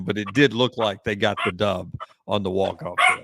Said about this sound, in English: wife's just getting home, so Charlie's going to bark for a minute